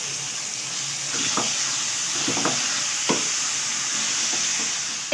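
Minced meat keema stir-fried with whole spices in a pan, a steady close sizzle broken by scraping stirs of the spoon at intervals, with no talking.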